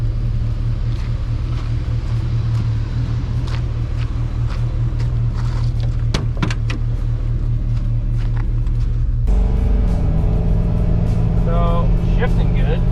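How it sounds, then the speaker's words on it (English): A car with a 4L60E automatic transmission and a suspected torque converter fault on a test drive, giving a steady low engine and road rumble throughout with a shift in tone partway through, while people talk. "Alright, we've been driving around a bit."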